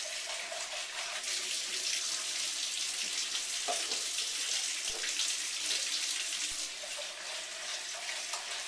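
Yogurt cartons get rinsed under a running tap, a soft continuous splash of water with a few light plastic knocks, fairly quiet and with no voices.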